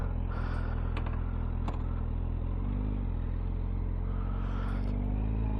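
A 2025 Honda CB1000 Hornet SP motorcycle being ridden, with a steady, continuous engine drone and road rumble throughout and a couple of brief clicks or clatters near the start.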